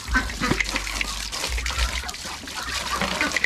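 Water trickles and splashes softly near a rural yard where poultry are kept, a close, uneven dribble with low rumbling underneath and no clear talking.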